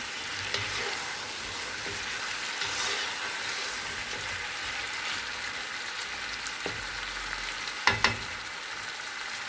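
Meat frying with tomatoes in a pan, a broad steady sizzle with occasional stirring scrapes and a couple of sharper clatters near the end.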